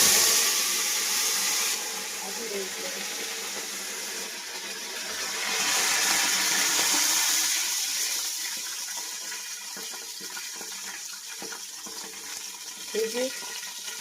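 Sugar water is poured into a hot tempering for dhokla, giving a steady watery gush and hiss that swells midway and then settles into a crackling simmer, with faint speech underneath.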